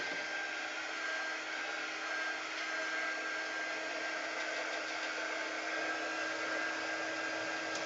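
A hair dryer blows on chalk paint coating a picture frame, a constant close whirring hiss with a steady motor hum that runs unbroken throughout, with no talking.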